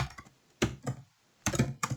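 Keystrokes on a computer keyboard come in two close bursts of quick typing separated by a short pause, near and fairly clear with no talking.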